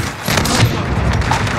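Dense rapid gunfire from an overhead aircraft during a fire mission at a besieged US Embassy in Modern Warfare, a loud sustained rattling barrage with booming undertones, with radio chatter heard over it.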